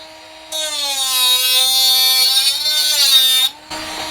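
A high-pitched Xenon cordless grinder whines steadily for about three seconds as it cuts through PVC pipe, starting and stopping abruptly, close up.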